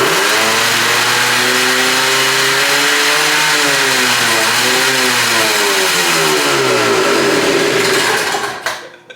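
A neglected 1983 Honda Odyssey FL250 go kart engine revs at full throttle, a loud, close, continuous buzzing roar whose pitch dips and climbs before cutting off abruptly at the end.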